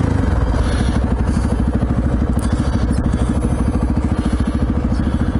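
A small-displacement motorcycle engine runs steadily and close up in a rapid, even pulsing throb, with a loud, continuous note and some mechanical clatter, heard alone without talk.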